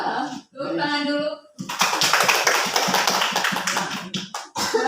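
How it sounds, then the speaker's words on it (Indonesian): An audience of teachers at a school training session in Indonesia claps in a burst of dense, fairly loud applause lasting a few seconds, after a short stretch of talking. "Tepuk tangan dulu"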